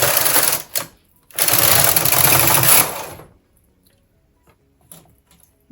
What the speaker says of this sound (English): knit from left to right to select the needles